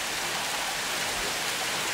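Steady light rain falling outdoors after a heavy downpour makes a continuous even hiss, with no voices over it.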